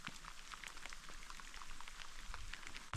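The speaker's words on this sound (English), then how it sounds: "Still raining, but we're gonna give it a go." Steady rain patters and drips on surfaces outdoors in the stormy Pacific Northwest, a dense continuous hiss of drops with scattered louder individual hits, with no voices.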